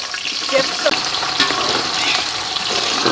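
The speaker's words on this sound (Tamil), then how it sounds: "பட்டை கிராம்பு ஏலக்காய் எல்லாம் எடுத்து வெங்காயத்தை போட்டுக்கிடுவோம்" Onions frying in a pan with cinnamon, cloves and cardamom for biryani, a steady close sizzle with a few stirring scrapes running throughout.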